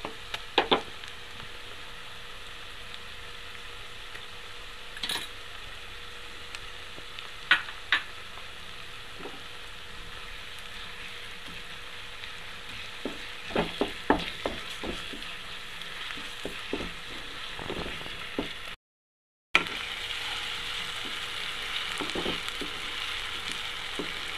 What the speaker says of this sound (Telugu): ఇప్పుడు ఇందులో కొంచెం మనం అల్లం వెల్లుల్లి పేస్ట్ కూడా వేసుకొని వేగించుకుందాం